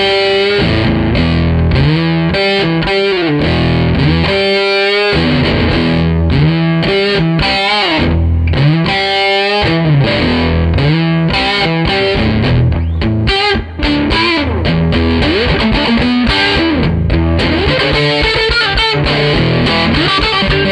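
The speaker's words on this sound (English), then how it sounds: "The Tone Reaper. Again, a little bit brighter, a little bit more open, and crispy around the edges." Electric guitar played through an Earthquaker Devices Tone Reaper fuzz pedal, a loud, dense, crisp and bright distorted tone with continuous chords and riffs, close and alone without speech.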